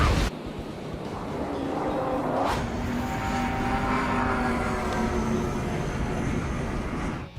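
A jet aircraft in Ace Combat 7 flies low at high speed, a steady loud roaring rush with a whining engine tone that holds throughout, no voices.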